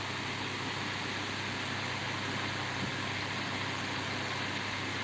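An Indos 9 inch wall cum table fan running at speed two gives a steady, even whooshing hum at close range, unchanging throughout with no voices.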